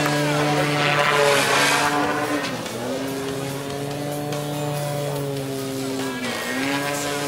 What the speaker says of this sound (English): Due to the variable pitch propeller, he can go forwards and backwards, just like the small shock flyers.